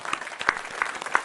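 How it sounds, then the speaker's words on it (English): A small audience at a live comedy podcast recording gives a thin, sparse round of applause, only a few separate claps landing in quick succession. "round of applause for that"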